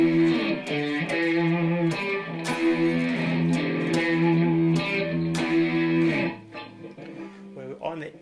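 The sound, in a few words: electric guitar phrase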